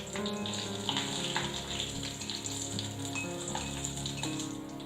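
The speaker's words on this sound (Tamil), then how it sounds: "எண்ணெய் லைட்டா சூடானதும் இதுல ஒரு 6-7 சிவப்பு மிளகாயை சேர்த்துக்கலாம்." Red chillies frying in hot oil in a kadai, a steady dense sizzle with a faint background hum, no talking.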